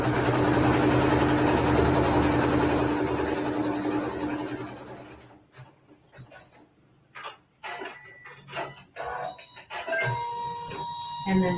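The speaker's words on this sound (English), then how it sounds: "and then sew our seam" Sewing machine stitching a quilt block seam, a steady close whirring run for about five seconds, then stopping, followed by fabric handling sounds and a person speaking.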